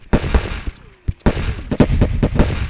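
Rapid gunfire from the video game Paper Front, loud sharp bursts of shots in quick succession with a short pause in the middle before the firing resumes.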